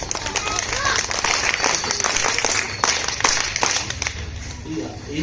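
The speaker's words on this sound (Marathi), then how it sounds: "पहिलीच्या विद्यार्थ्यासाठी पुन्हा एकदा आपण टाळ्या वाजवणार आहोत" A school audience at an Independence Day program claps loudly and continuously for a first-grade student's speech, a dense, close burst of applause with crowd murmur underneath.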